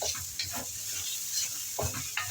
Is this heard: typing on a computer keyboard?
no